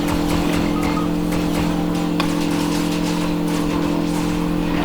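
A loud, steady engine drone with a constant hum fills a multiplayer video game match as a car drives into and runs over the player, the motor noise continuous throughout.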